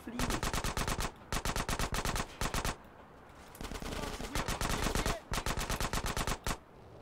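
Automatic gunfire in GTA San Andreas Definitive Edition, loud rapid bursts of shots in several long volleys with brief gaps, over a steady game backdrop.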